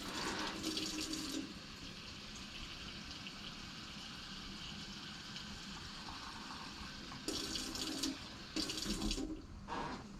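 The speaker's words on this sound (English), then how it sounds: "I'm going to fill the jar about halfway up with cold water." Cold water runs from a tap into a quart jar in a kitchen: a steady, close stream of pouring water, with louder splashy bursts at the start and again near the end.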